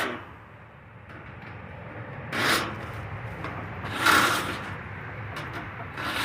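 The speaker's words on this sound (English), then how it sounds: "He's taking the scrap steel off of the aluminum and copper. He's separating the metal." Scrap steel being pried and pulled off the aluminum and copper of an air conditioner unit, giving rough scraping and rasping bursts at a moderate distance, two louder grinding swells among quieter rubbing.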